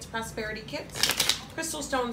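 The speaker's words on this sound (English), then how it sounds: "I'm shuffling cards. That's what that noise is." Tarot cards are shuffled in quick riffling bursts, crisp papery flutters repeating every fraction of a second beneath a person talking.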